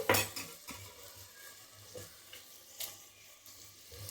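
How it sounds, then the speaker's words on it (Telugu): Moringa leaves and moong dal are stirred in a pan with a metal spoon, soft scraping and clinking strokes under a faint sizzle, quiet and close, with no talking. "కలుపుతున్నాను"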